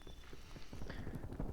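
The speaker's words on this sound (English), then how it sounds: "You can hear those footsteps there" Running footsteps in Call of Duty Cold War, a rapid run of dull thuds with game ambience around them, fairly close and steady in loudness.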